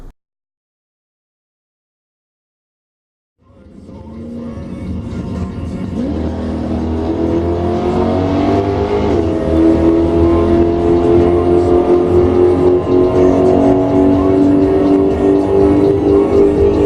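Race cars run laps at the ZMAX track: after a few seconds of silence, a loud engine roar swells in and holds steady with revving, a broad continuous drone filling the rest of the stretch.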